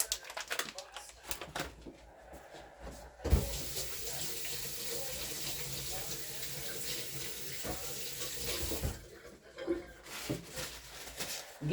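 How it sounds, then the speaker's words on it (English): Running tap water splashing over hands being rinsed at a sink, a steady close hiss lasting several seconds, with scattered handling noises before and after. "I'm gonna kind of rinse my hands a little bit."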